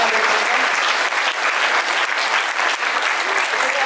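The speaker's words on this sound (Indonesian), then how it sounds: "Boleh tepuk tangan lagi untuk semua yang ada di sini." A seminar audience applauds loudly, many hands clapping in a dense continuous burst close by.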